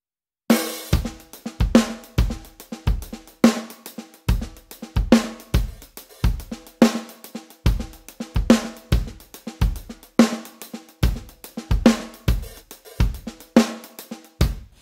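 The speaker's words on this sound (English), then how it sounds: "What you just heard was the Fairfax 1 kit from Addictive Drums 2." A halftime shuffle drum groove played on the Fairfax 1 kit from Addictive Drums 2, with punchy kick and snare hits over a steady shuffled pulse, loud, close and alone.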